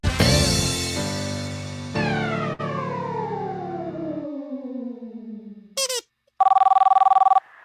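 Played-back telephone recording with heavily processed, distorted tones sliding downward, a short burst of buzzy ringing, and then a steady electronic ring tone near the end, loud with no talking.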